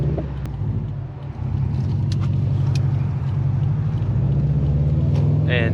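Subaru WRX STI, 350 hp, stock clutch, 72K miles, with a steady, loud low engine rumble heard from inside while driving, continuous throughout with a slight swell near the end.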